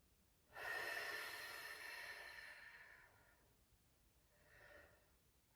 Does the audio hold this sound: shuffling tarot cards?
no